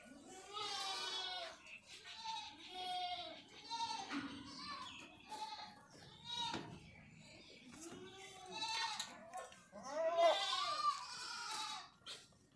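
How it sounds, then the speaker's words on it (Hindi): Goats bleat repeatedly on a farm while feeding, a wavering chorus of moderately loud calls from several animals spread across the scene. "मज़े से बकरियां खा रही है।"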